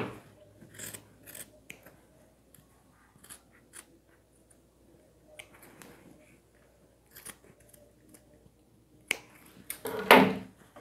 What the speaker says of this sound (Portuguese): uma dica é colocar a pontinha da tesoura só até a altura que você quer cortar